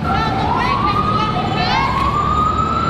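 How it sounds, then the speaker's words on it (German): Emergency sirens wail through New York City streets, a rising and falling tone that sweeps up and down over a loud, steady traffic bed. They come from somewhere near, with more than one siren overlapping. "Man hört durchgehend irgendwo Sirenen oder so."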